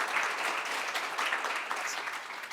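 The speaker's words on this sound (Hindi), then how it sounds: "एक बार जोरदार तालियों के स्वागत से" Short burst of audience applause welcoming a speaker on stage, dense steady clapping heard alone.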